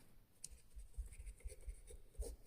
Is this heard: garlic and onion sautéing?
no